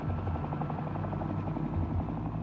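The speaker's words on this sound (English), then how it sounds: "This helicopter is dropping thousands of incendiary devices containing a highly flammable jellied" Helicopter flying over forest while dropping incendiary devices, a loud steady rotor drone with rapid rhythmic chopping throughout.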